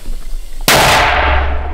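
A sudden loud blast of a mortar firing in combat near Bakhmut, Ukraine, followed by a long, booming roar that slowly fades.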